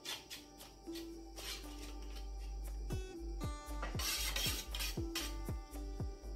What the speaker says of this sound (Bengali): এবার এই ডিম দুটোকে আমি একটু ফেটিয়ে নিচ্ছি